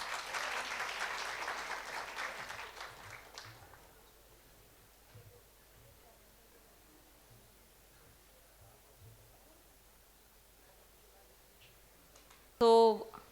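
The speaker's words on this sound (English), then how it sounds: "Please give a big round of applause." Conference attendees at an audiology and speech-language alumni session applaud for about three seconds, a fairly soft burst that fades into quiet room tone with light rustling, followed by a brief loud noise near the end.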